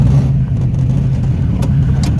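A 1964 ERA Shelby Cobra FIA replica's engine runs steadily at close range while driving, a low throaty hum with a constant idle-like drone and no voices.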